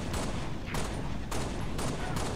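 Heavy gunfire in the Halo Reach video game, a loud, unbroken barrage of shots with several harder bursts punching through the dense rattle.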